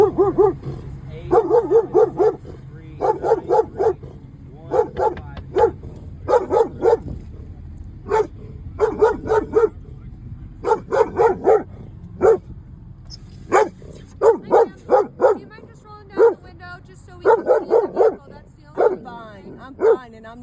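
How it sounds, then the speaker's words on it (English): Upset service dog barking repeatedly during a police encounter, sharp loud barks and yips in rapid clusters with brief whimpers, continuing for about twenty seconds. "I have a service dog that's very upset right now"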